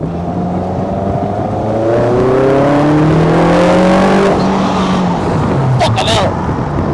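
A kit car engine revs and climbs through its gears while driving, loud and close with rising and falling tones, as people talk over it.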